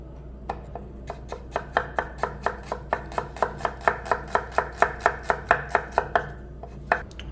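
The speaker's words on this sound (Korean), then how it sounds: "우선은 샬롯을 먼저 썰어서 튀겨 보도록 할게요." A knife slices shallots on a cutting board for frying, a long run of about twenty evenly paced, crisp chopping taps that grow slightly louder as it goes.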